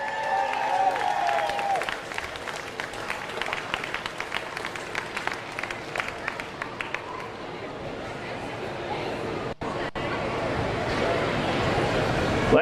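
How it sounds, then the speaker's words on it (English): Crowd applause for the junior female podium at Queensland state lead climbing titles, scattered clapping and cheering during the first half that fades into murmuring hall ambience, with a brief dropout late on. "one more big round of applause for our junior female podium for the Queensland State League titles"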